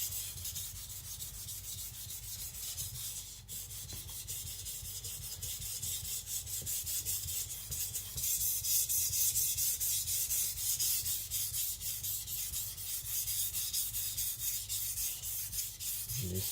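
A Tojiro Shirogami nakiri, a layered sanmai blade, is being sharpened on a stone, giving a steady rasping, scraping rub that runs continuously and close up with no talking.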